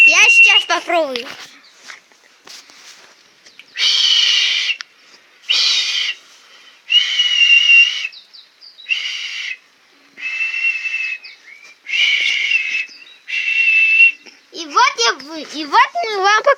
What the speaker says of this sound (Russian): И вот мы вам показали, как громко свистеть.